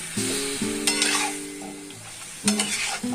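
Chicken meat sizzles in a frying pan while being stirred, with close scraping strokes against the pan and a steady hiss, under a sustained low tonal hum.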